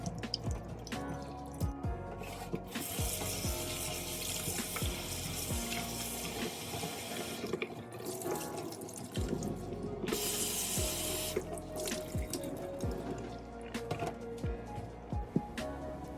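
Running water splashes steadily into a sink, with drips and brief surges as raw shrimp get rinsed under the tap with water and vinegar, and no one speaking.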